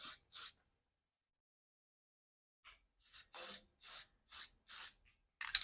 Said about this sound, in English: Like always, you get a spray can in your hand